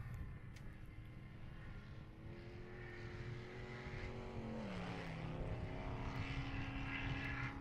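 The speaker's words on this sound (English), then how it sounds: "I hear a lot of high horsepower behind us, Pam." A high-horsepower Ultra 4 off-road race car engine drones from a distance and then swells louder as it approaches and passes, its pitch sliding downward partway through against a faint outdoor background.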